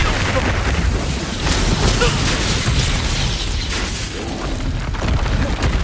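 Rapid bursts and booms from spell combat in the video game Hogwarts Legacy, dense overlapping blasts, pops and crackling effects filling a loud, busy game soundtrack.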